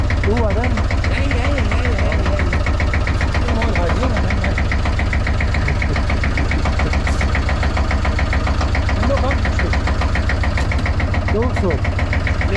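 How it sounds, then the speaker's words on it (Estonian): An old Sabb 11hp inboard diesel in a 1972 Nordan 21 boat thumps steadily at idle, a loud, close, continuous low knocking rhythm throughout, with people talking over it. "Kurat läkski käima, tuksub nagu vana mootor."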